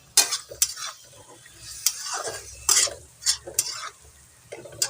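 Hot rice-washing water is poured into a cooking pot of singhi fish curry, giving short bursts of sizzling and hissing mixed with stirring scrapes and light clinks of a utensil against the pot, close by.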